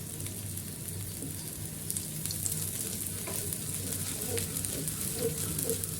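Batter fries in a mix of ghee and white oil, giving a steady, soft crackling sizzle close to the pan, with occasional louder pops and spatters and no talking.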